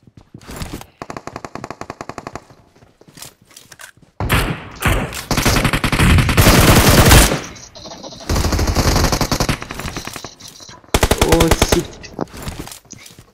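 Automatic gunfire in a mobile battle royale game, loud bursts of rapid shots in several long and short volleys separated by brief gaps, close and punchy.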